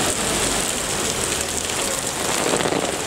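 Steady rain falling hard on a surface near an open-air parking area at Dataran Merdeka, a dense continuous hiss with no voices.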